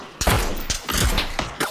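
Repeated gunfire in the PUBG battle royale game: several sharp, loud shots at irregular intervals, some in quick bursts with short echoing tails, close by and without any talk.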